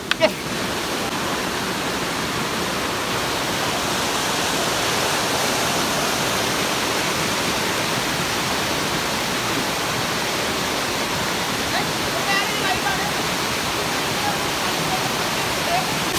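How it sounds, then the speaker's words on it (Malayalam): Continuous broadband rushing of foaming water, steady and full throughout, from the Nenmini waterfall in Malappuram, close by with no pauses. "വെള്ളം പതഞ്ഞൊഴുകുന്നതാണ്"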